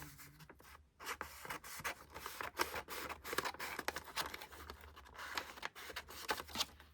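Scissors snip and rasp through cardboard packaging close up, giving a quick series of crisp cuts and scratchy slicing sounds at an uneven pace.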